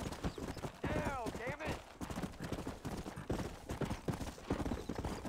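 Horse hooves clip-clop in Red Dead Redemption on PS5, a steady rhythmic beat running under busy game sound, with speech and other noise layered over it.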